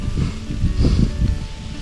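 Gusty wind buffeting the microphone, low rumbling bursts that rise and fall irregularly, loud and close, with no one speaking.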